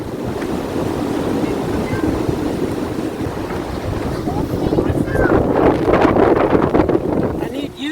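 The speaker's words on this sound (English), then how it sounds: "It's really crazy wind. Very strong." Strong, chilly gusts of wind roar around a high-tunnel greenhouse outdoors, a loud continuous buffeting rush that swells and flaps against the microphone, with wind noise dominating throughout.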